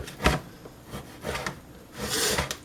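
A knife dicing sliced bacon on a cutting board, a few close, uneven chopping and scraping strokes, with a longer scrape near the end.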